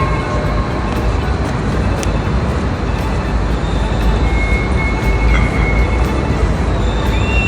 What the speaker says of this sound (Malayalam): ഇപ്പോൾ ഇതാ ട്രാം വരുന്നത് നമുക്ക് കാണാം